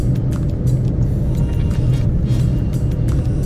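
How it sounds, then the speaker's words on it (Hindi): A car driving along a road from Mahipalpur toward Chhatarpur in Delhi, a loud continuous engine and tyre rumble heard from inside, steady throughout with faint ticks and rattles, and no speech. "अब अपनी गाड़ी चली"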